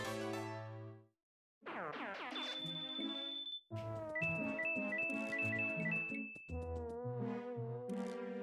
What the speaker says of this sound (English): Answer your phone, Mario.